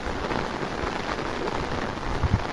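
Steady rain patters on a surface nearby, a continuous even hiss with a few heavier drops, no voices.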